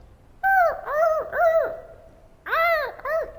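A voice imitates electronic seagull noises, giving a series of gliding, wavering cries in two bursts separated by a short pause, loud and close with no other sound.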